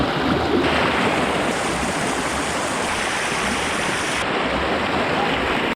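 A small forest waterfall in the countryside near Arima, giving a continuous close, loud rushing splash of falling water with no voices.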